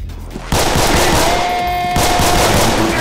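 Dense, continuous automatic gunfire in a loud video game, rattling nonstop for about two and a half seconds after a brief quieter lead-in, with a steady high tone running underneath.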